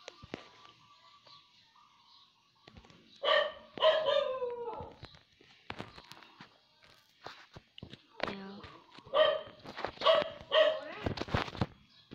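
A dog barks repeatedly near a house in a series of loud, close bursts with short pauses, some calls drawn out like a howl, over a quiet background with faint footsteps.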